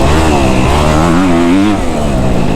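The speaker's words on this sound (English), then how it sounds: "She loves to be revved." Up close, the engine of a Kawasaki KX250F dirt bike revs loudly, its tone swelling to a high-pitched wail before easing back to a rough idle, with no speech heard.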